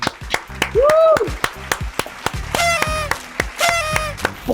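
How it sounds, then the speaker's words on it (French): A game show studio audience applauds the episode winner of La Roue, clapping mixed with whoops and excited shouts, with a loud voice cutting through the noise. "s'il vous plaît, applaudissez-le"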